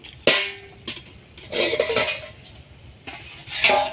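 A metal lid lifted off a cooking pot of parboiled potatoes and soybeans, several sharp clanks and rattles of metal cookware at close range with no talking.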